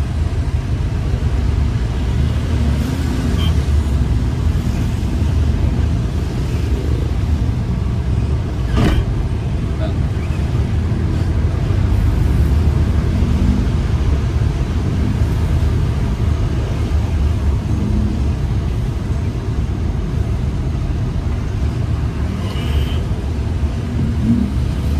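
A traditional Filipino jeepney moves through road traffic, its engine a steady broadband rumble heard from close by with other vehicles passing, and a brief sharp knock partway through; no talking.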